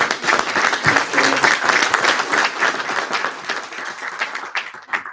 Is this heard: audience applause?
yes